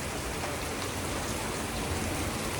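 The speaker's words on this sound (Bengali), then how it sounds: "মেঘ কাটছে কিন্তু বৃষ্টি থামছে না কি জোর বৃষ্টি হচ্ছে" Heavy rain falls in a storm, a dense, loud and continuous hiss of drops striking surfaces close by, steady from start to finish with no voices.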